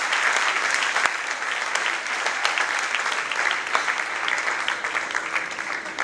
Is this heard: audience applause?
yes